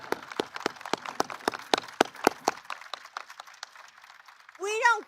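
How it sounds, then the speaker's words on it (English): Applause for state and national teachers of the year at a White House ceremony, a run of sharp hand claps from a small group that thins out and fades, followed by a brief voice at the end. "I'm going to clap for you."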